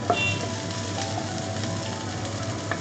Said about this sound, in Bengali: এবার আদা কুচি আর লঙ্কা কুচিটা এর মধ্যে দিয়ে দিই। এটাও একটু সামান্য ফ্রাই করতে হবে।